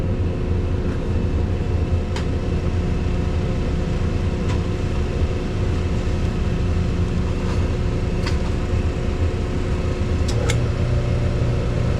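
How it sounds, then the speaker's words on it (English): A LAARS Pennant hydronic boiler's motor hums steadily in a boiler room, with a constant low drone and occasional faint clicks over the continuous running sound. "I'm going to turn on the power and let's see if this motor spins."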